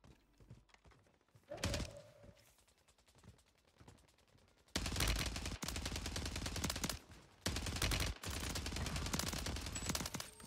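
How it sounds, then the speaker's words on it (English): Sustained automatic gunfire from a Warzone 3 match on Rebirth Island, loud bursts that begin midway and continue with a short break, after quieter ambient game sounds and a brief tone. "Yeah, people shooting over here."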